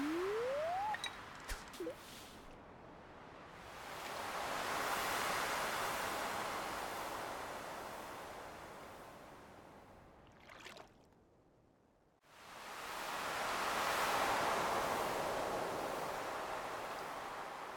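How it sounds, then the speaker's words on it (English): Gentle ocean waves in a video game wash in two long, soft swells that build and fade, with a brief quiet gap between them; a few small clicks and a rising tone sound at the start. "I love how peaceful the ocean is. Just hearing the waves, man."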